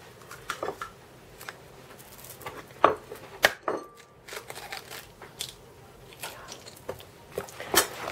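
Potato pancake batter with pepper, egg and yolk stirred in a bowl, giving irregular clinks and scrapes of a utensil against the dish with soft wet squishing, fairly close, no talking.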